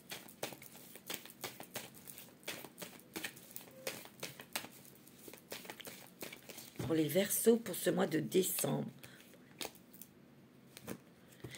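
Oracle cards are handled and shuffled in a brief burst of papery rustling and flicking, heard close and set against continuous speech.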